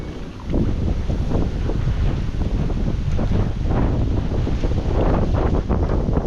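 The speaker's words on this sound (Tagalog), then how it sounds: "Uy, tinatangay ako ng hangin." Strong wind roars steadily into the microphone with heavy buffeting rumble, loud and continuous throughout, with no voices.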